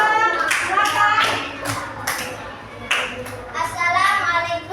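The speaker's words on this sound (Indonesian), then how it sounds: "Tepuk tangan buat kelompok 2" Children in a classroom clap together in a burst of applause for a group, with sharp broadband claps repeating in loose clusters and young voices faintly mixed beneath.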